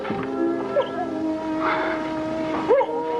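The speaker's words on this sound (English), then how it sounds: "The puppy was crying." A puppy whimpers and whines in thin, high cries, a few short yelps rising over a steady low hum in the background.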